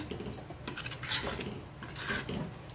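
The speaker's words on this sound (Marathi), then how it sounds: "अर्धा चमचा मीठ टाकते मीठ टाकून छान मिक्स करून घेऊया" A spoon scraping and stirring salt into masala in a pan, two or three soft metallic rasps and clinks at close range.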